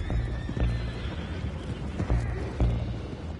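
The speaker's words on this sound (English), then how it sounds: "Those horses down below." Horses whinny and hooves clip-clop in the Red Dead Redemption 2 video game, with several neighs rising over a rumbling, busy background at moderate loudness.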